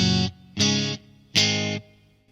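Three short, loud guitar chords in an uneven rhythm play through a Blackstar Amped 2 simulating a Bassman amp, each bright and clipped after a fraction of a second.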